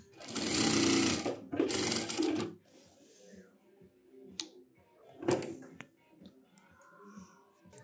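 A Rubina RB-9400L-4D sewing machine stitches in two loud bursts of rapid, buzzing needle action, then falls to quiet clicks and light tapping, with another short whir later on.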